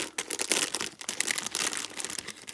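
Crinkly plastic packaging being pulled and torn open around a wooden bobbin of gold thread, a close, quiet run of irregular crackles and rustles.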